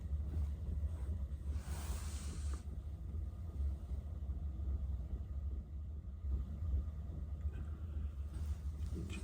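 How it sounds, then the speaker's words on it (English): Steady low surf on a beach wraps a camped Vanagon van in a continuous wash, with a brief brighter rush of water or wind around two seconds and no voices. "listening to the waves on the beach all night"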